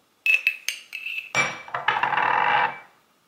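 A metal teaspoon clinks against a little ceramic cup several times while coffee is scooped into it, sharp close taps followed by a brief scraping, rustling pour before falling silent.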